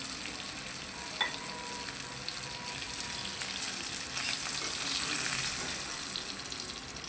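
Fish frying in hot oil in a home kitchen, a steady soft sizzle with faint crackles that holds evenly throughout, fairly quiet and without talk.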